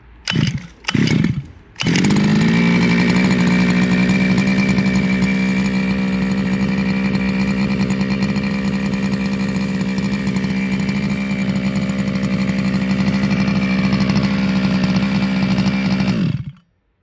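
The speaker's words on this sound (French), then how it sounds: "je vais tirer un coup et logiquement, ça doit démarrer du premier coup" A couple of quick pull-start attempts, then a Zenoah CY26 two-stroke engine on a 1:5 scale model car roars into a loud, high, buzzing idle that runs steadily before cutting off abruptly.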